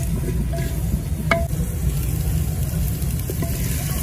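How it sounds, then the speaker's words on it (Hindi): Onions cook in a few spoonfuls of oil in a clay pot for village-style chicken white korma, a low steady sizzle with a rumbling undertone and a few faint stirring knocks. "प्याज को हम हल्का सुनहरा होने तक अच्छी तरह पकाएंगे।"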